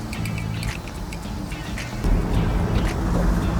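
A Porsche Taycan without the rear-axle steering option accelerates with the steering wheel at full lock: a low rumble that grows heavier partway through, with intermittent high tire chirps and squeaks.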